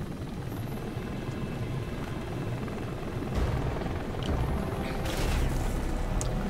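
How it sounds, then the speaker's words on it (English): A helicopter in the shooter video game Dark Sector churns steadily overhead with dense rotor noise, joined by occasional booms and gunfire-like bursts. "Oh look, it's a helicopter, our mortal enemy."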